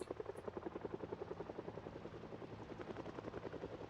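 Steady, rapid rotor thumping of a helicopter in a zombie survival game plays alone and loud, a continuous pulsing chop holding throughout.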